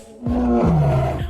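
A tiger roars loudly and close while attacking a cow, one deep, rough, drawn-out roar with rising and falling growls, no other sounds.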